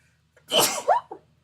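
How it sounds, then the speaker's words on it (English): A single close, sharp sneeze bursts out of near silence, with a brief wheezy tail afterward. "going to sneeze, I think"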